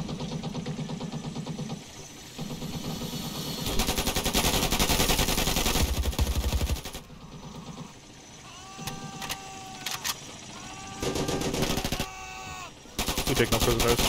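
Bursts of rapid automatic gunfire in the video game Ravenfield, loud rattling volleys broken by short pauses, with vehicle engine hum and whining mechanical sounds between bursts.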